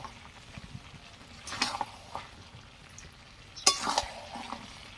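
Chicken and raw jackfruit curry being sautéed and stirred in a pan, with a low steady sizzle and two louder scraping bursts of the spatula against the pan.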